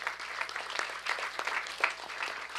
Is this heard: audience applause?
yes